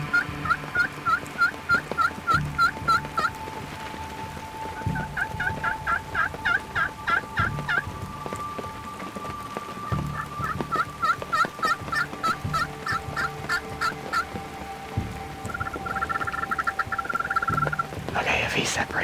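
Wild turkey gobbling during a hunt in Ontario, Canada, with repeated loud rattling gobbles in bursts across the stretch, answered by softer calls and clucks nearby.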